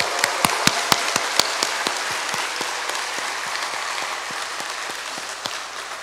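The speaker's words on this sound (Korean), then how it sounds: "부활하신 주님께 우리 영광의 박수를 돌려드리면서 환호성을 하겠습니다." A church congregation applauding at an Easter Sunday service, a steady wash of many hands clapping with a few sharper nearby claps standing out, sustained and fairly loud throughout.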